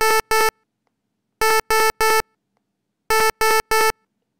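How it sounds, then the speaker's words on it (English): A motion sensor alarm beeps in loud, clean electronic tones: a pair of pulses, then two quick bursts of three, each group separated by silence. "if there is any movement, somebody comes in or walks, then immediately the alarm goes off."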